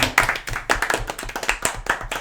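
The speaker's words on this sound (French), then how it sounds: "Moi j'aimerais qu'on applaudisse Clémentine quand même." A few podcast hosts clap together indoors: close, uneven hand claps from a small group, loud and a little scattered, with no talk over them.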